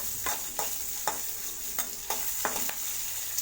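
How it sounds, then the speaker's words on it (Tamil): A spoon scrapes repeatedly through green chilies and asafoetida frying in a pan for a green moong dal and bottle gourd kootu: about seven distinct, evenly spaced stirring strokes over a soft, constant sizzle, close and fairly quiet. "பெருங்காயத்தூள் போட்டது நல்லா ஒரு டைம் நல்லா கிளறி விட்டுட்டாங்க"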